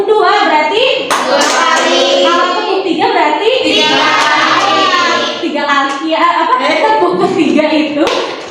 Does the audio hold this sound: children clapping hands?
yes